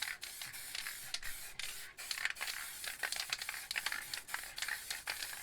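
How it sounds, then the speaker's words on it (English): A low pressure spray paint can loaded with Montana Gold paint hisses in short bursts, spitting and sputtering unevenly from the cap, with brief gaps between sprays. "it seems to spit more with this Montana Gold than it does with the white"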